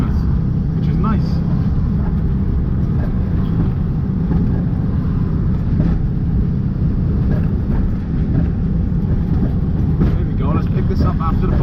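A slammed 1965 VW Beetle with an air-cooled engine drones steadily while driving, a continuous rumbling, rattly engine and road noise heard close and loud from inside the car for the whole stretch.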